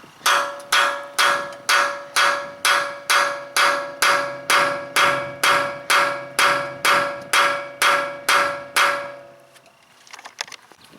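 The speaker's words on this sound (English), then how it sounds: "So we just line that up, hammer it in." Sharp metallic hammer strikes drive a socket onto a stripped wheel lock on a BMW, ringing out in a steady, even rhythm, around twenty blows in a row, each leaving a brief ringing decay, then stop.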